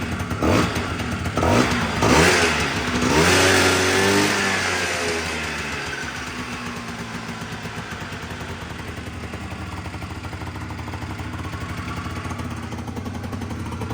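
A Honda Dio 100 cc scooter engine revs high on its first start, a loud buzzing roar that swells early and then settles into a steady, fast whine with faint clatter, no voices.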